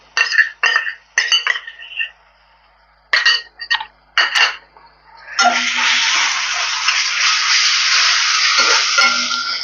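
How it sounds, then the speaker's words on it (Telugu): Ginger garlic paste hits browned onions frying in a pan, starting with several short scraping stirs, then a loud, continuous close sizzle that holds to the end. "ఇది బ్రౌన్గా ఫ్రై అయ్యాక మనం తీసి పెట్టుకున్న మిగిలిన అల్లం వెల్లుల్లి పేస్ట్ వేసేసుకుందాం"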